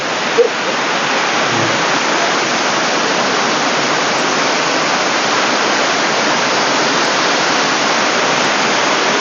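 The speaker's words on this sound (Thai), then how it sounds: "ก็เป็นน้ำตกแห่งหนึ่งที่สวยงามนะครับ สำหรับน้ำตกผากล้วยไม้ อุทยานแห่งชาติเขาใหญ่นะครับ" Pha Kluai Mai waterfall in Khao Yai National Park, a constant, loud, broadband rush of falling water that holds steady throughout, with a brief knock near the start.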